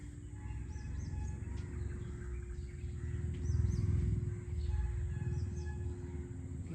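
Birds chirp faintly outdoors in a few scattered calls over a steady low rumble and a constant hum.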